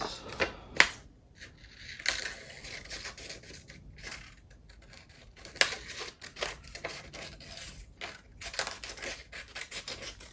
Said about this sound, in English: I'm gonna carefully cut it out